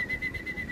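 A bird gives a steady, repeated high whistle in short even pulses over a faint low background.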